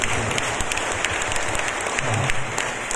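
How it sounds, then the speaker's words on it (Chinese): An audience at a cancer hope foundation charity event bursts into sustained, dense applause, many hands clapping continuously and loudly throughout with no voices on top. "是不是我们也要给他的掌声鼓励一下"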